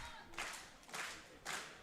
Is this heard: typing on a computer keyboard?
no